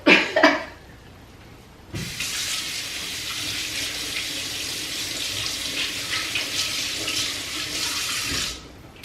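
A bathroom tap runs in a steady stream while water splashes onto a face being rinsed, preceded by a brief cough-like noise, then the flow cuts off near the end.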